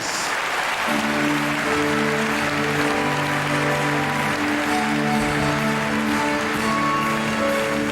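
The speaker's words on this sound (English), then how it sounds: "Clap your hands, please." An audience claps steadily at a live music awards show while a band plays a sustained tonal chord, the applause filling the room throughout.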